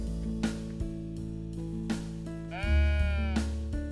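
A single sheep in the cozy building game Tiny Glade gives one clear, wavering bleat partway through, heard over soft, sustained background music with gentle plucked notes.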